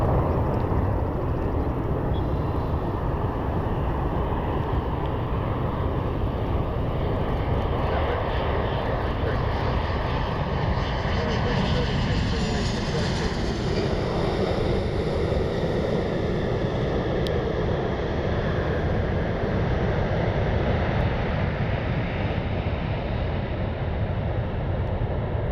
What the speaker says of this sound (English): Southwest Airlines 2320 inbound from Denver.